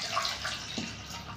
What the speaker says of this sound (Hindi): ये गाढ़ा हो गया तो थोड़ा सा पानी मिला दे रहे हैं हम इसमें